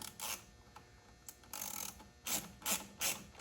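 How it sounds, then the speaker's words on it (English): A 10 mm ratchet tightens a clamp during an intake install on an LB7 Duramax diesel engine. Short, quiet bursts of ratcheting clicks come in uneven strokes, close by, with no voices. "So let's take our 10 millimeter and just start tightening."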